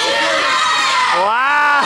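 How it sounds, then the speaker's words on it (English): A wrestling event crowd cheers and shouts: a loud, dense wall of many voices with rising yells and whoops, building toward a swell of shouting near the end. "This crowd is really making noise"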